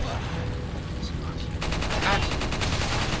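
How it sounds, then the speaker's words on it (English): Rapid gunfire in Resident Evil 4, set in the castle area, becomes a fast, pulsing rattle partway through, layered over a dense, steady game background. "Who the fuck's shooting me?"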